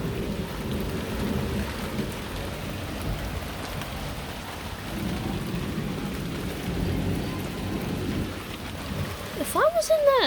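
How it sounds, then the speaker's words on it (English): Severe thunderstorm with heavy rain drumming constantly and low thunder rumbling underneath, loud and close, with a brief voice-like sound near the end. "Alright, the rain's picking up."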